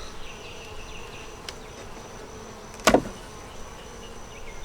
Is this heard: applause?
no